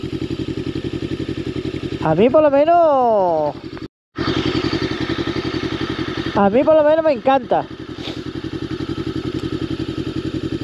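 A 2023 Voge 525 ACX motorcycle idles with a rapid, throbbing exhaust pulse, then revs up sharply twice in rising and falling sweeps before settling back to idle, while someone speaks over it.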